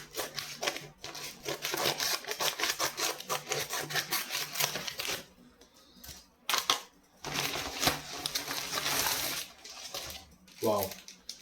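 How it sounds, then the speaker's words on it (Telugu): A jeans delivery package is cut open for unboxing, giving rapid scraping and slicing bursts close up, broken by short pauses, with a voice speaking briefly near the end. "అన్బాక్స్ అంటే ఏమైనా మనం కటింగ్ చేసుకోవడం, కటింగ్ అయితే చేస్తున్నాను"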